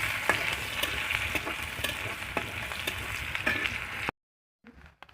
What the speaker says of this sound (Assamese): এইফালে এইখিনি বঢ়িয়াকৈ ভাজি লওঁ গাইছ